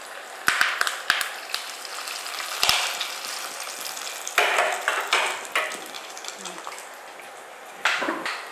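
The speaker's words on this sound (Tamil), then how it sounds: "அடுப்பை ஆஃப் பண்ணிவிட்டு கருவேப்பிலை தெரிக்கும்" Curry leaves splutter in hot oil for wheat rava vegetable pongal, giving a soft sizzle with scattered sharp crackles and pops over several seconds.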